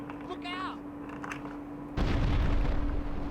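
A sudden loud, rumbling explosion in GTA Vice City as a van blows up, sustaining as a heavy roar, preceded by quieter game sounds and a faint whistling tone.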